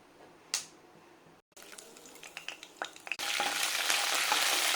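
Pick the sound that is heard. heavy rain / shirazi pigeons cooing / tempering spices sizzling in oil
tempering spices sizzling in oil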